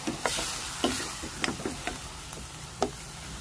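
Soy sauce is stirred into a sizzling dish, with a soft frying hiss under scattered scraping clicks of a utensil against the pan.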